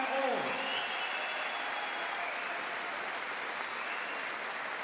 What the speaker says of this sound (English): a round of applause for two boxers who gave their all